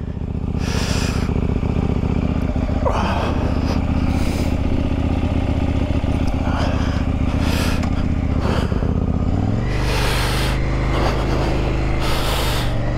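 A 2020 KTM 890 R Duke motorcycle being ridden on a cold day, its engine droning loud and continuous with rising and falling revs and gear changes, accompanied by wind rush.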